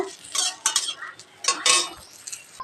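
A spoon scrapes and stirs neem leaves around in a dry pan, in irregular bursts of rustling and clinking, close up, with no talking.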